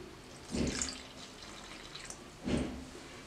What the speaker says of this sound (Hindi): अब इसमें पानी डालना है।